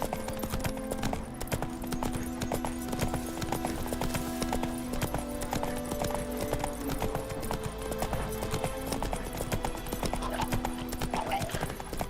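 Roach, a horse in The Witcher 3: Wild Hunt, trotting with quick rhythmic clip-clop hoofbeats, a snort or whinny now and then, over in-game ambience and background music.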